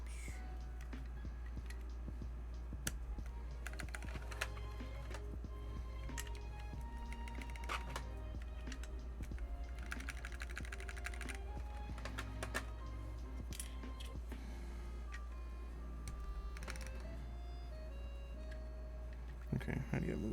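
Typing on a Tess65 mechanical keyboard build fitted with small keycaps gives quiet, irregular clicks and clacks over a low steady hum, with a voice speaking at times.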